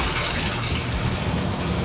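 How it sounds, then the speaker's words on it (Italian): Heavy rain drums steadily on a car while driving near Orvieto, a dense continuous hiss with low road rumble underneath, loud and unbroken throughout. "come avete visto piove, anzi strapiove"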